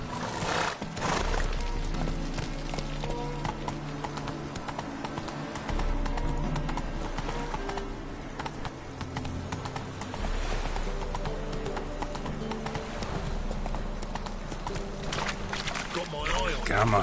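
Horse hooves clip-clopping at a quick pace under a rider, rhythmic thuds running throughout beneath music and a voice urging the horse on.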